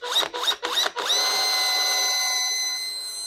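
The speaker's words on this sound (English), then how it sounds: "now I'm going to drill a hole in these two corners" A power drill works at two corners of a bench top in a shed, starting with three quick whirring bursts, then settling into one steady, loud whine that runs for a couple of seconds close by.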